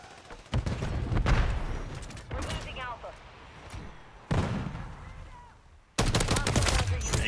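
Gunfire from the Call of Duty: Modern Warfare video game with battle rifles, sharp loud bursts and shots arriving in several clusters with pauses between them, mixed with game effects and some voices.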